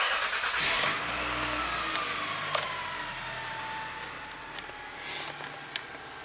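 A 2000 Toyota Camry with surging and stalling faults cranks and catches, giving a brief low rev before settling into a steady, close idle hum with faint clicks.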